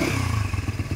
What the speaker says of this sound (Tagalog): Grabe, lakas ang tunog ng tensioner